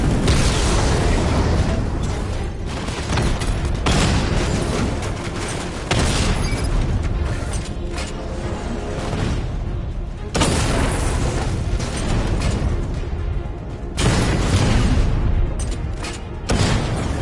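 A 60mm tank cannon fires and shells explode against heavily armored units in a video game, giving a series of loud, heavy booms every few seconds over a rumbling background.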